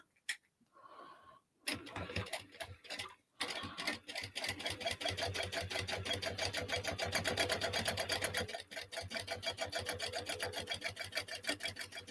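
A sewing machine stitches a crossbody bag with a seam guide fitted, running in a rapid, steady mechanical patter for most of the stretch after a few short starts, with a brief pause near the end.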